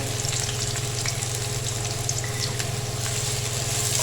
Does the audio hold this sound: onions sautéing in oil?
yes